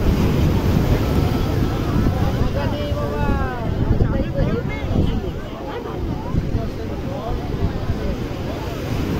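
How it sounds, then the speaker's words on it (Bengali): High-tide sea waves at a full-moon spring tide break and wash continuously onto the beach, loud and close, mixed with heavy wind buffeting the microphone. "ঢেউ কিভাবে আছড়ে পড়ছে।"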